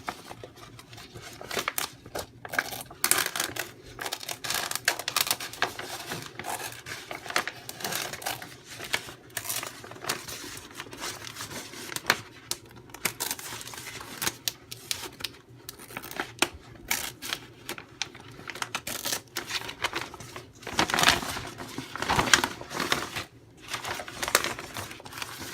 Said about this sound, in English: I'm just going to cut above the seam right here.